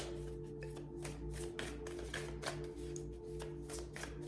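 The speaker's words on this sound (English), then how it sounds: "Shuffling for Virgo." A deck of tarot cards being shuffled by hand, a steady run of soft riffling and papery flicks that continue close up with no talking, over a faint low hum.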